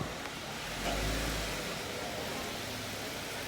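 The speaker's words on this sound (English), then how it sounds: "We're taking it for a little test drive, making sure that everything's running smooth and feeling good." A Jeep JK on a test drive after a front driveshaft replacement, its engine running as a steady low rumble with road and wind noise, briefly swelling a little louder early on, with no one talking.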